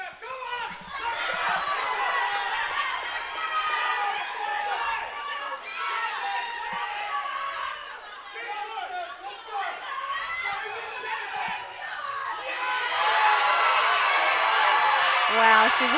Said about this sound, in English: The crowd is going wild.